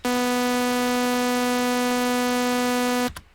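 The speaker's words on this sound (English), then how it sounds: "So saw lead is like something I use a lot because saw leads" A single sustained synth note with a bright, buzzy sawtooth tone holds steadily for about three seconds, then cuts off abruptly.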